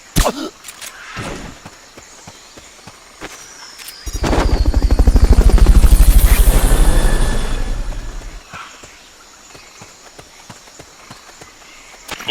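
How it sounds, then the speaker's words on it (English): In the video game Metal Gear Solid Peace Walker, a Fulton recovery helicopter swells from faint to a loud, rapid rotor thudding near the middle, then fades away, with scattered clicks and taps before and after. "Fulton recovery subject confirmed onboard helicopter."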